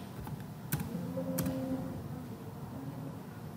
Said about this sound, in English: Now I am typing all kinds of codes of index.